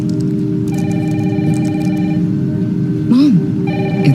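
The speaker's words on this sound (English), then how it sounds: "Mom, phone." Telephone ringing in a house on a rainy night, a steady electronic ring repeating beneath background music and a short spoken voice.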